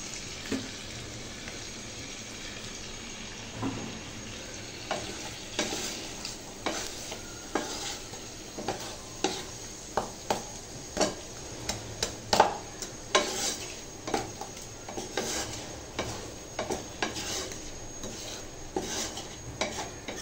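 Frozen curry added to a pan of oil with tomatoes on a home gas stove, sizzling softly and steadily while a utensil stirs and scrapes in a rhythmic series of clinks against the pan, close by, with no talking.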